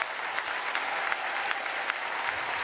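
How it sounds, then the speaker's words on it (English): A large commencement crowd in Harvard's Tercentenary Theater stands and applauds outdoors, a dense, sustained wash of distant clapping with occasional sharper individual claps standing out. "The entire Tercentenary Theater on its feet and applauding."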